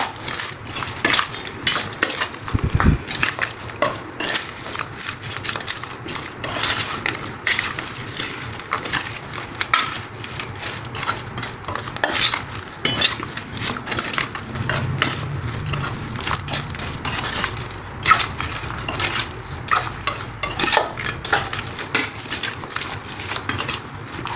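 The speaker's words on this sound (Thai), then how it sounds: "คุณคลุกเขาให้เข้ากันครับ" Utensils scrape and clink against a bowl in a steady, busy rhythm as minced duck salad with shallots and spring onion is tossed and mixed, close up and continuous.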